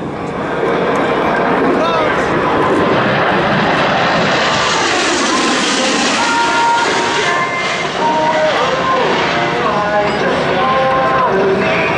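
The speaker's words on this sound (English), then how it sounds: "Watch now as Major Thorpe pulls the aircraft straight into the vertical, demonstrating the Warthog's power and maneuverability in all attitudes of flight" An A-10 Thunderbolt II Warthog jet roars loudly and continuously through an air show display as it pulls into a vertical climb, its engine whine steady throughout, with a commentator talking over it.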